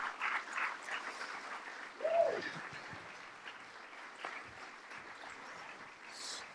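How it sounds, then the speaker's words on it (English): A small audience claps to welcome guests onto a stage at a Doctor Who Q&A event, light scattered clapping with a few cheers, fairly faint and tapering off. "Let's give them a warm round of applause."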